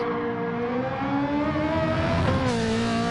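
A race car engine revs hard in Gran Turismo 7, a loud, close, continuous whine that holds steady and then rises in pitch with a brief shift partway through.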